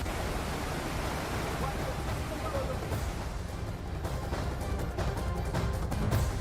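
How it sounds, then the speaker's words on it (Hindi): A flooded river surges after heavy rain in Lachen, Sikkim, a loud, steady roar of rushing water filling the whole stretch without a break. "सैलाब की आवाज और तेज बहाव"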